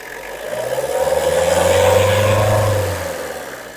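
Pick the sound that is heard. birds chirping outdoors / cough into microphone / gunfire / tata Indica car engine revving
tata Indica car engine revving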